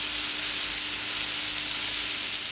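Chicken fillet coated in Cajun spices fries in a little oil, giving a loud, continuous close sizzle with a faint steady hum beneath and no talking.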